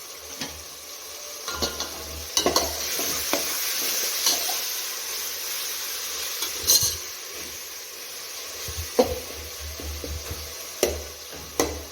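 Masala of tomato and chopped coriander frying in a pan, a continuous sizzle broken by scattered spatula scrapes and clinks against the pan, close and alone without speech.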